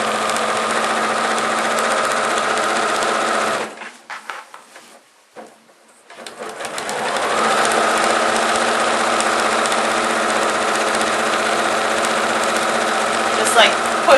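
A domestic sewing machine stitches wavy quilting lines in a steady, fast mechanical whir that briefly slows and stops before running again at a constant pace.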